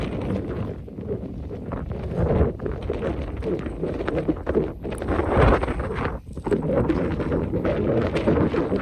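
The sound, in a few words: strong wind at Devils Tower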